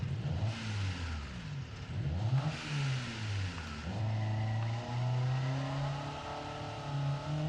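A truck in BeamNG.drive accelerates from 0 to 60, its engine revving up through several gear shifts in rising, sweeping tones, loud and close with no talking.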